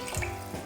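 Water pours steadily into a soup pot on the stove, 2.5 liters for Korean seaweed soup, with a brief, fairly loud splashing rush and no voices.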